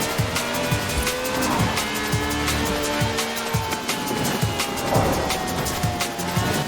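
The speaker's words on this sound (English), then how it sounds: "Holding adrift is a delicate balance of throttle, steering and shouting" Car drifting in the video game Forza Horizon 4, with continuous loud engine roar and repeated tyre squeals that rise and fall through the run, game music or effects faint beneath.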